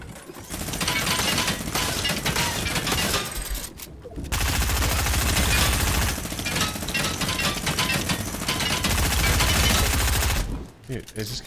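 Rapid, loud gunfire in Fortnite, rattling in long sustained bursts broken by brief gaps.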